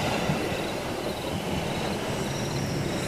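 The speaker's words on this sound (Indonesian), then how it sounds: "Ada suara kereta lagi." A train rolls past in an Indonesian horror game set at a railway station, a dense steady rumbling roar with faint wheel noise, loud and continuous throughout with no speech.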